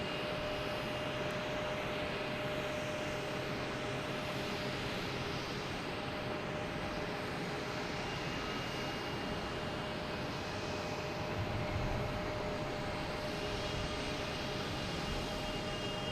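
A JetBlue Airbus A320 at Boston Logan Airport gives a steady, fairly distant engine roar that holds evenly throughout, with no talking.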